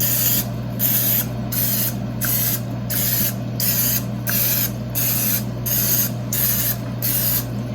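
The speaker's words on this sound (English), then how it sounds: "we're gonna spray that with a little bit of cooking spray" Short bursts of cooking spray hiss repeatedly into a muffin tin in a steady rhythm, close by, each a second or less with brief pauses between.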